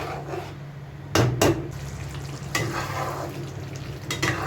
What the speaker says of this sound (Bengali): দেখো বন্ধুরা তেলটা ছেড়েছে, কিন্তু আর একটুখানি শুকাতে হবে, খুব ছিটকাচ্ছে বাবা